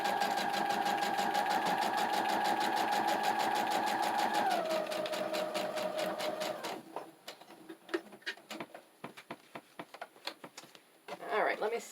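A domestic sewing machine stitches a junk journal insert in a steady, fast rattling run that slows and stops partway through, followed by scattered clicks and handling noises close by.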